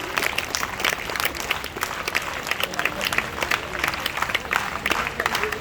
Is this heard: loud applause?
yes